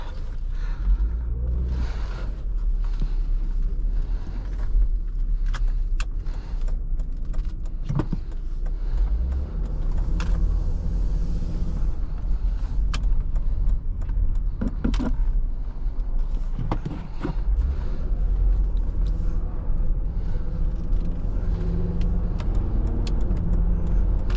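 A 2007 Volvo XC70 with 515k miles drives on a road, its engine and tyre rumble steady from inside the cabin, with occasional clicks and small interior rattles over the low drone.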